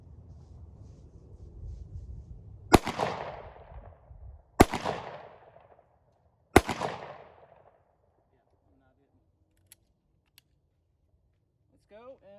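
Three sharp pistol shots ring out at an outdoor shooting range, spaced about two seconds apart, each loud crack followed by a short echoing tail, with faint background noise between and a few small clicks afterward.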